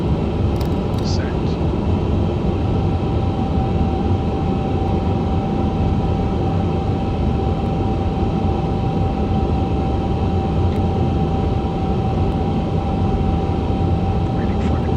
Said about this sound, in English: We have a good engine start.